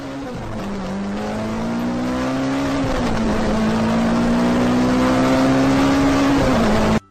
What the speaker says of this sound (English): He got into his car before speeding back home.